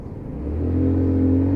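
A Lexmoto Titan motorcycle engine, which has a fuel issue, idles while rolling around a corner, giving a steady low hum that swells slightly and holds close and clear, with no talking.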